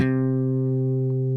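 A single sustained bass guitar interval rings out as a Dorian tritone fill, steady and close, slowly decaying with no talking.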